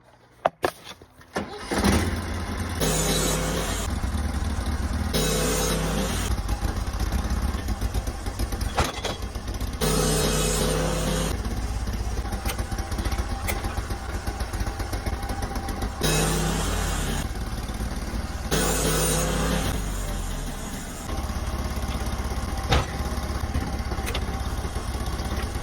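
A sawmill engine drones loudly and continuously while milling a knotty 10x10 beam. The steady engine roar swells and dips in several bursts as the blade works through the log.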